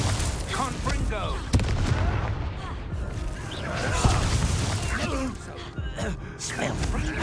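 A Confringo explosion spell goes off in the Hogwarts Legacy video game: sharp booms burst out amid busy combat effects, with character voices talking throughout.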